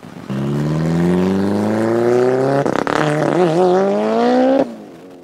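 A McLaren 720S sports car launching on a drag run, its engine roaring loud and close as the pitch climbs steadily, breaks at a gear shift, then climbs again before cutting off.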